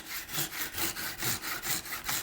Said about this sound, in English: the plastic saws a little slowly, but it does saw nicely